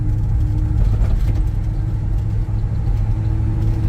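A 1972 Chevrolet C/K 10 pickup truck drives along, its engine a steady low rumble heard from inside the cab, loud and continuous with slight swells, and no talking.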